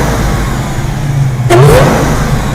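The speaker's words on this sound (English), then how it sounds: "let's hear that whine of the supercharger" Supercharged car engine running loud and close, a rising whine sweeping upward as the revs climb briefly over a steady low engine rumble.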